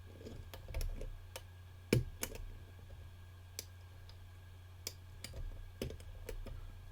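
Small sharp clicks from pins inside a Black & Decker safe lock being picked, scattered irregularly and faint over a steady low hum, close by and quiet.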